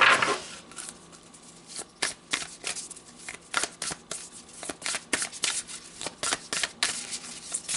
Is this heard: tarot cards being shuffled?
yes